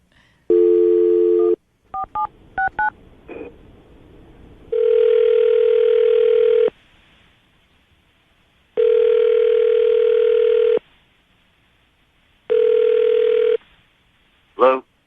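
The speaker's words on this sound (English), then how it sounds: "Okay, you ready to give him a call?" A telephone call placed on a radio show: a burst of dialing tones followed by several long, loud ringback tones separated by silences, ending with a short click as the line picks up.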